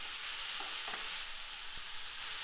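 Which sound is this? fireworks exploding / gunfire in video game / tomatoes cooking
tomatoes cooking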